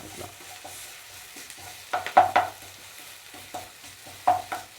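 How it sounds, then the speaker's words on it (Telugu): Ivy gourd pieces frying with ginger garlic paste, a quiet low sizzle broken by a few sharp spoon scrapes and clinks against the pan as they are stirred. "ఈ అల్లం పేస్ట్ దొండకాయలు కలిసేదాకా బాగా పట్టిద్దాం కలుపుతూ"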